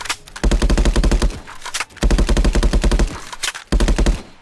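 Rapid automatic gunfire from a realistic VR first-person shooter, loud bursts of fast repeating shots in three long volleys separated by brief pauses.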